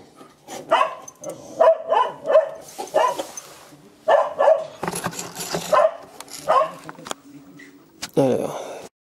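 A dog barks in bursts of repeated sharp woofs, close and loud, during a car chassis repair in a workshop. It keeps going across the whole stretch with short gaps between volleys.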